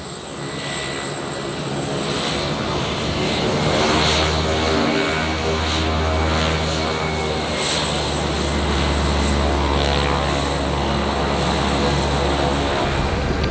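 A seaplane's propeller engine drones loud and close, holding a steady throbbing roar that swells slightly midway and carries on without letup, with no talking over it.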